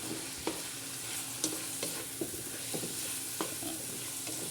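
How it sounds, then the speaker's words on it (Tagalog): Chicken and cabbage sautéing in a pan with black pepper, a steady sizzle under repeated scraping and clacking stirring strokes, close and moderately loud with no talking. "ginisang manok with repolyo lang muna tayo ngayon"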